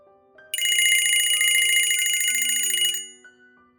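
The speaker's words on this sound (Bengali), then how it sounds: "হঠাৎ ফোনটা বেজে উঠল।" A phone rings with a bright electronic trill that lasts about two and a half seconds and then stops, over soft low sustained musical tones.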